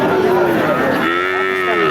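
A calf bellows at the Chaugachha cattle market, a steady nasal moo carrying across most of the two seconds with busy market noise behind it.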